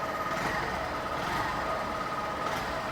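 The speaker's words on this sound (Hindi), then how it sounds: "आइडियल कंडीशन में इंजन साउंड, एग्जॉस्ट नोट।" A Honda Shine 100 motorcycle engine idles steadily, a low rumbling exhaust note holding even and close throughout with no throttle changes.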